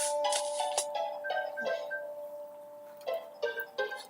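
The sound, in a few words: phone ringtone ringing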